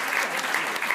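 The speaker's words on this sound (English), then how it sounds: "Round of applause, actually." Theatre audience applauding in a short, steady wash of dense clapping, fairly loud and close, with no voices over it.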